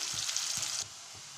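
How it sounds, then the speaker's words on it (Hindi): Onions frying in hot oil in a pan for pav bhaji, a steady close sizzle with a few soft stirring knocks that drops to a quieter fizz partway through. "तेल गरम होने के बाद में इसमें हम प्याज डाल देते हैं और इसको गरम अच्छा गुलाबी होते तक भून लेते हैं।"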